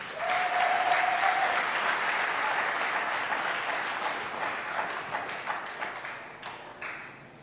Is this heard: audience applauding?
yes